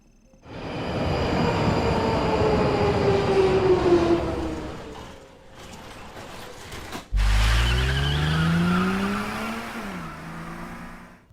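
Trains move through St Pancras station in London, a loud rumbling pass with rising and falling wheel and motor tones, a brief dip, then another heavy surge with squealing wheels, no speech.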